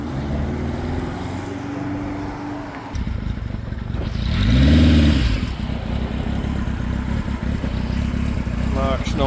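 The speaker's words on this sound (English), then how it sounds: "There goes young John on his Honda. He's had that since new, that bike. Yeah, nice Honda K2." A Honda K2 motorcycle, owned since new, rides past at a motorcycle gathering, its engine note rising to a close, loud pass midway and then fading, with someone talking over it throughout.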